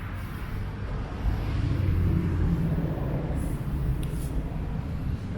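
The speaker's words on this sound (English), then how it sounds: "The bearing sounds fine." A clutch throwout bearing spins on a 2010 Subaru WRX during a transmission swap, giving a steady low mechanical rumble and whir that runs unbroken at moderate level throughout.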